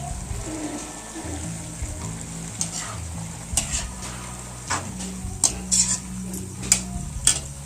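Onion and tomato for an onion bhaji dish stir-fry in a pan, a steady sizzle running throughout with scraping utensil strokes and metallic clinks growing more frequent toward the end, close and moderately loud, no talking.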